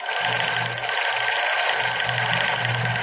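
Sewing machine stitching a girls' bra, running steadily and loudly throughout with a continuous high whir and low rhythmic motor pulse, no pauses.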